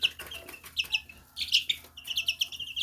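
Day-old to one-month hybrid chicks on sawdust bedding peep close by, several high, thin chirps overlapping in quick bursts with no voices.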